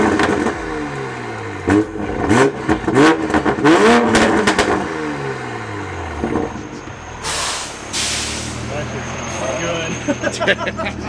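Toyota Supra with a loud aftermarket exhaust revving hard in repeated sharp bursts, rising and falling close by, then settling into a rumbling idle with a hiss of air near the end.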